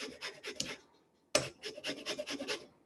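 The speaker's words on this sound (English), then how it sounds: "but we want to grate it really fine" A lemon is rubbed against a fine grater for zest, giving close, rhythmic raspy scraping strokes in two runs separated by a short pause.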